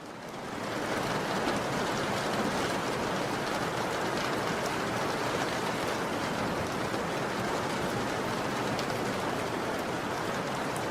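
Steady, dense rain pouring down with a constant broadband hiss, loud and close, holding evenly for the whole stretch; no clear thunder claps stand out.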